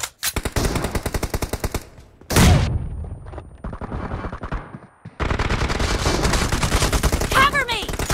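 Rapid automatic gunfire in the mobile game BGMI, dense bursts of loud close shots separated by short pauses and a heavy boom, with faint game voice callouts mixed in.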